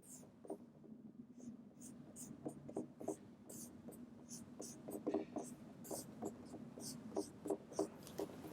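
Handwriting on a board or paper while explaining integer multiplication, close scratchy pen or marker strokes in quick irregular bursts, fairly quiet and continuous, with no talk over it.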